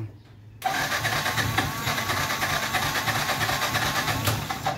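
A Yamaha FZ16 motorcycle with a cold-start problem cranks and catches after a brief quiet moment, then holds a loud, steady mechanical roar close by for several seconds with no talking.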